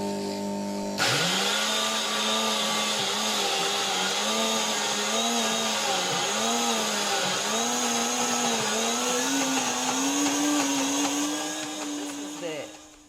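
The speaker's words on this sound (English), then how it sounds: "I'm going to put it in a grinder and grind this." A grinder whirs steadily for about twelve seconds as it grinds coconut into flour, its motor pitch wavering as the load shifts and then winding down at the end.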